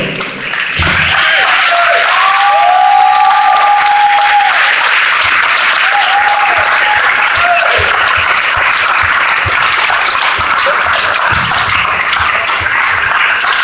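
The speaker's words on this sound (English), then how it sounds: "Give him another round of applause." Loud, sustained applause from a large crowd at a town hall event in St. Louis, with cheering voices rising over the dense clapping.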